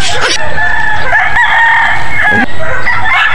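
A rooster crows loudly and close, one long drawn-out call with a rough, strained edge.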